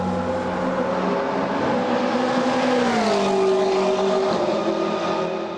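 A McLaren MP4-12C GT3 race car runs at the Nürburgring, its engine a loud, sustained roar with pitch sliding down and back up as it shifts and passes nearby, filling the whole stretch without talk.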